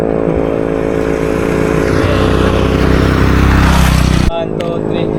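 A motorcycle engine runs loud and close at a spring resort in Tabogon, Cebu, a continuous rough drone that swells before cutting off abruptly near the end, leaving quieter background.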